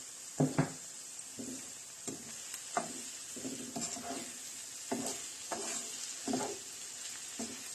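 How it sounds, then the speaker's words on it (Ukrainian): Salted and sugared onion frying in a pan, with quiet steady sizzle and repeated soft stirring scrapes in an irregular rhythm, close and fairly faint with no talk. "Дамо її посмажитися, щоб вона була така прозора."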